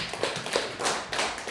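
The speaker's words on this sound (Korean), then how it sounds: "우리 하나 앞에 영광의 박수 돌립니다." Quiet, scattered clapping from a church congregation, a brief patter of a few hands tapping in uneven bursts, faint and heard alone without talk.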